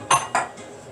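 Carrot tipped into a cooking pot of vegetables and beans for Jamaican coconut curry chickpeas: two quick clinking impacts of utensil against pot close together, then quiet.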